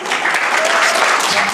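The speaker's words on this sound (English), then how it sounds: "let's not only give him a round of applause for coming today and this presentation" An audience applauds at a public talk, loud and close dense clapping that fills the whole short stretch without a break.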